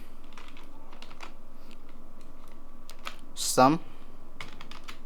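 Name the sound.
typing printf code on a computer keyboard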